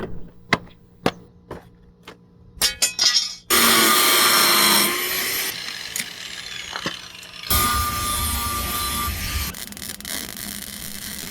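Power tools whine, grind and cut through metal for a bus door lock mechanism, starting with a string of sharp separate knocks and clanks, then broad loud continuous grinding and drilling runs that stop and restart, with no talking.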